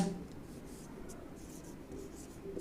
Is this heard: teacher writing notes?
yes